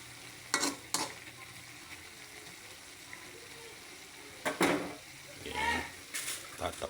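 Vegetables stir-fried in a pan for Filipino igado, with sizzling and scraping stirring strokes coming in short bursts near the start and again toward the end, close up, with quiet stretches between.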